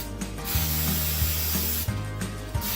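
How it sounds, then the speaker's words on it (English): Loud continuous hissing of hairspray with a mechanical rattle, two long bursts close to the microphone, no talking. "I'm gonna spray this one more time."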